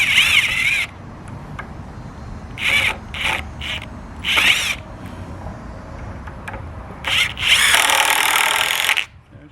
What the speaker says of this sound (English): I put 4 screws in it total.